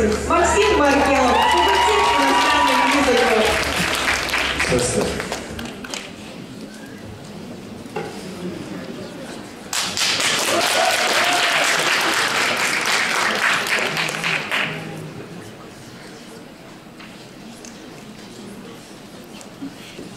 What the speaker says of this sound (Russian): Давайте поддержим бурными аплодисментами нашего сокола.